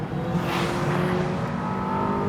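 A McLaren W1 road car drives on a track, its engine a loud, steady droning hum with a slowly rising pitch, heard close from inside or onboard for a couple of seconds.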